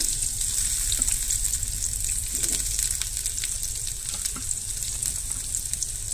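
Chopped onion sizzles steadily in hot oil for a clams masala, a dense continuous hiss with faint crackles and occasional spatula scrapes, close and alone without talk.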